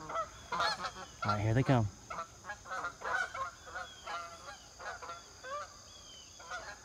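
Geese honk loudly overhead as they fly in during a backyard goose hunt, a burst of overlapping calls close by, with hunters talking quietly around them and fainter honks continuing behind.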